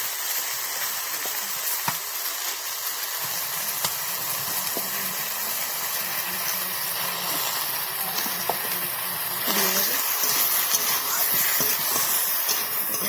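A mixture with turmeric frying in a pan, a steady close hiss and sizzle running throughout with occasional small clicks of stirring, rising slightly near the end, no speech.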